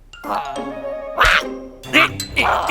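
Loud honking quacks from a goose break out several times in quick bursts, mixed with a voice speaking over them.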